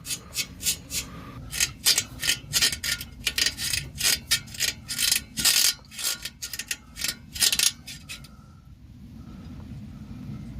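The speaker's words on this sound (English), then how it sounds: "We might have to give it a bit of twisting, a bit of wiggling around, and we'll get it off." A DPF pressure pipe is twisted and wiggled off a Ford Transit, giving a steady run of close, sharp rubbery creaks and clicks in quick bursts that stop abruptly near the end, with no talking.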